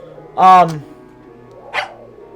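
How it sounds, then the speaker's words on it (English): A dog in the video game Tiny Bunny gives one loud, close bark followed by a shorter, fainter yip, separated by a brief quiet gap. "the dog barked in agreement and stopped messing with the mitten"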